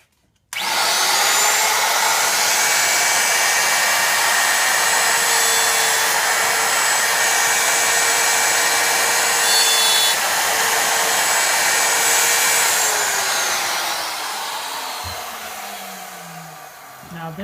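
A woodworking router cuts box joints in a board on a Leigh D4 jig, a loud continuous high whine that holds steady for about thirteen seconds and then winds down as the bit spins to a stop.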